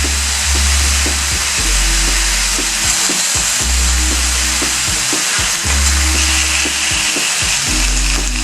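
Bison burgers frying on a cast iron griddle, a loud steady sizzle and crackle with occasional scraping and clanks, heard up close without talk.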